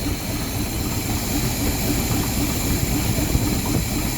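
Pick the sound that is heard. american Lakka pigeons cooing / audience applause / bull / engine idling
engine idling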